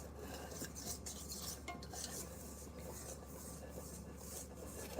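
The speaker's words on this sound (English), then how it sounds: "I guess I'll just use a whisk. I don't know. I'm just gonna start stirring it." A whisk stirs dough in a bowl, giving a steady, soft scraping and clinking against the bowl with a continuous rubbing texture and no talk.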